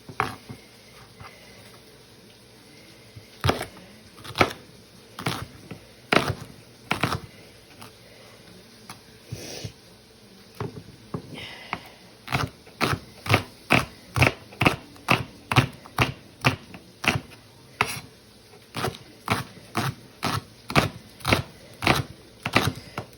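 A knife chops shallots steadily on a cutting board, sparse taps at first, then a fast, even run of sharp chops, close and alone.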